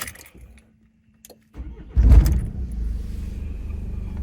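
A starter motor whirs after a few faint clicks, then a Renault Master 3 van engine catches and settles into a rough, steady idle nearby.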